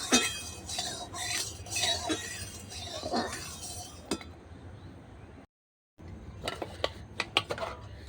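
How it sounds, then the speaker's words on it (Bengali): A spatula stirs mustard oil in a hot kadai, making scattered metallic scrapes and clinks, then a short silence and a few sharper taps. "এইভাবে কড়াতে আমি তেলটাকে নেড়ে দেবো"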